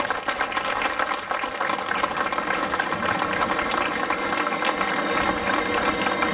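An audience at an outdoor statue unveiling applauds in a dense, steady wash of clapping that holds even throughout without voices rising above it.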